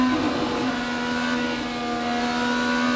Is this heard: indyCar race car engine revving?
yes